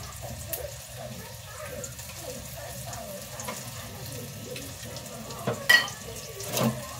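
Chicken frying early in the morning, a faint continuous sizzle and crackle with a few louder clinks and bumps near the end, heard alone at moderate distance.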